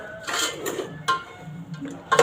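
Rice being mixed by hand in a metal vessel, a few close, sparse clinks and scrapes of metal against metal at irregular intervals.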